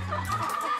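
Free-range chickens on a small egg farm clucking softly at close range, a brief run of low murmuring calls with no talk.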